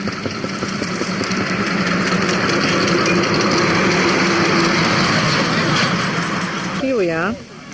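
A group of pre-1930 antique motorcycles idles together while being gathered for the start of a historic club run, their engines making a steady, loud, continuous rumble, with a brief whining rev near the end.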